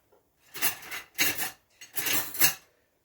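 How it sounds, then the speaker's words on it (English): A fork scrapes corned beef out of a can onto a plate in three close, rough bursts with short pauses between them. "I'm just gonna take my fork and help it to come out"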